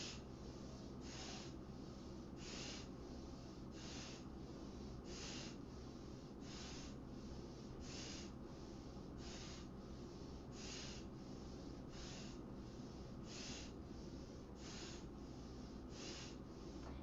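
Kapalabhati breathing during a yoga core workout: a steady run of sharp, forceful nasal exhalations, about one every second or so, over a constant low background hum.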